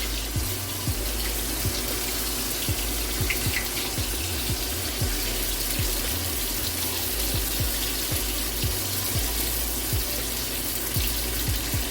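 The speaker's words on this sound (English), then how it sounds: "That noise is I just turned the fan on." A kitchen exhaust fan runs in a steady, broadband whooshing hum over a stove on low flame while frying calamari, with low thumps and clatter faintly underneath.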